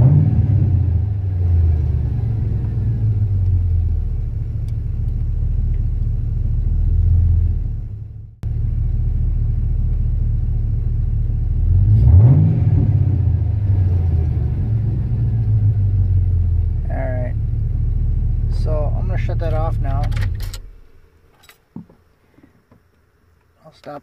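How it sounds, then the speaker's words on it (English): A 2006-style GM LQ4 V8 car engine revs and accelerates with a steady low rumble and droning harmonics that rise and fall over about twenty seconds, then cuts off into near silence with a few faint clicks. "See, when I accelerate, it goes down to"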